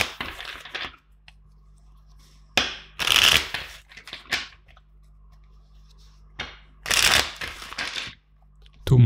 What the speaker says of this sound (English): Let's start by shuffling five times the deck